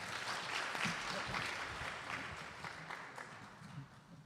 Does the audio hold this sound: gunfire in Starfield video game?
no